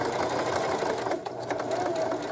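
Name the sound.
sewing machine stitching an appliqué curve on a sweatshirt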